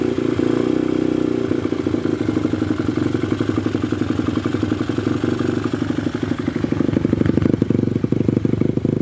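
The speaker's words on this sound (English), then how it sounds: "I'm going to have to try and start it up without the choke, because it won't start on the choke, and just hold the throttle up" Pit bike engine started without the choke and held on the throttle, running with a steady, loud, rough mechanical drone and rapid clattering pulses that grow more prominent toward the end.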